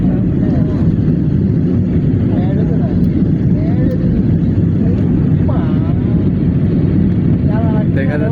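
Inside the cabin of an airplane in flight, a loud, constant low engine roar fills the space while a person talks over it throughout.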